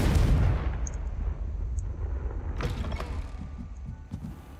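The Confringo fire spell in Hogwarts Legacy goes off as a deep booming blast at the start and fades into a rumbling tail, with a few sharp crackles and faint chimes afterward.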